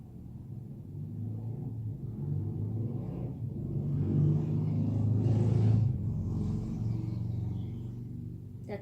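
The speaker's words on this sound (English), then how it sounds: "Motorcycle. car going by, motorcycle going by." A car and a motorcycle pass outside a building, heard as a muffled low rumble that swells to a peak around the middle and then fades, with no voices.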